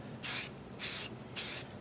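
Three short, even bursts of black primer from a spray can aimed at a miniature model, each hiss lasting about a quarter second with brief pauses between, close and fairly loud with no talk.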